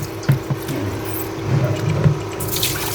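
Shrimp being washed by hand under running tap water for sinigang na hipon, a close, steady rush of water with scattered splashes and knocks as the shrimp are moved around.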